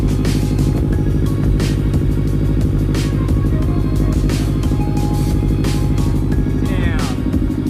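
A Subaru WRX fitted with a Tomei titanium catback exhaust idles with a loud, deep, throbbing drone, steady throughout, while people talk over it.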